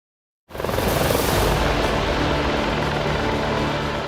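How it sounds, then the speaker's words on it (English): A HAL Dhruv Advanced Light Helicopter starts loud and abruptly after a moment of silence, giving a steady, dense rotor and engine roar close by with no voices. "India's Dhruv Advanced Light Helicopter."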